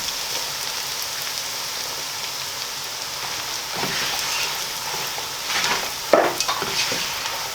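Garlic and onion sauté in a pan for a Batanes-style Valenciana, giving a steady close sizzle with a few stirring scrapes and clicks near the end, no voices.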